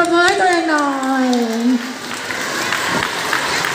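Applause from a group after a Milo exercise session, a burst of clapping under a voice that speaks at first and then fades, continuing at moderate level as a scattered patter.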